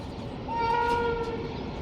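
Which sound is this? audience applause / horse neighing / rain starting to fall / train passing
train passing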